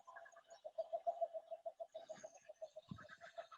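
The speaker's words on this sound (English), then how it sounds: "That kookaburra's on the video" A kookaburra calls in a fast, rhythmic run of cackling pulses, fairly faint and distant, rising and falling for several seconds.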